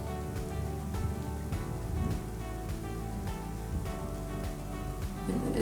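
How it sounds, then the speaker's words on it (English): Rain and thunder outside a room, heard as a steady broadband wash of rainfall with soft low rumbles, continuous and moderately faint throughout. "it is raining and thundering and it got so dark just now, so sorry if you can hear that"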